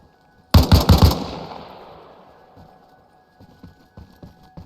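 M16 rifle fire in a video game: a rapid, loud burst of about five shots at a vehicle, echoing away into a long decaying tail, followed by a few faint thuds.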